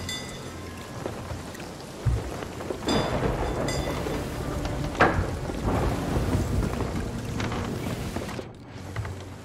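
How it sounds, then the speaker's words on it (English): Rain pours steadily through a video game thunderstorm at sea, with rumbling thunder and sharp cracks rising over the hiss of the downpour, continuous and fairly loud with no talking. "Oh, we're almost out of the storm."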